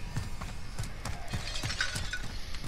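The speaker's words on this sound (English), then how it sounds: "It was glass." Glass shatters in a Call of Duty: Modern Warfare firefight, a burst of sharp breaking and clinking shards with several crisp impacts over a couple of seconds, fairly quiet in the mix.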